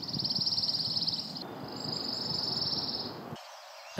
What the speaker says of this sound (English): The chipping sparrow, common at the cemetery, can sound a lot like the pine warbler.